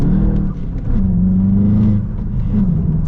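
A 2023 VW Jetta GLI with a manual gearbox and front-wheel drive accelerates close up, its engine note climbing in pitch, dipping briefly and rising again through a short, loud pull.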